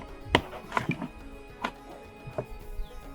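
A knife slices a vegetable on a cutting board while a Moroccan chicken tagine is being prepared, making about half a dozen sharp, close taps at uneven intervals.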